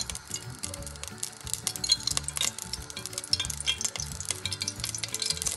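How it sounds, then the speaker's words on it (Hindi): Cooking oil poured into a hot pan on the stove while preparing Punjabi Pindi chhole, sizzling and crackling steadily at close range with some light clinks of utensils, no talking. "इसमें मैं करीब 4 चम्मच ये कुकिंग ऑयल डालूंगा"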